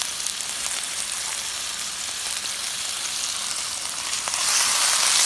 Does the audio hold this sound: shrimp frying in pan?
yes